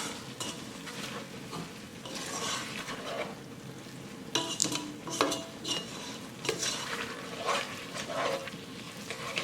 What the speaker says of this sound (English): Stir those seasonings in.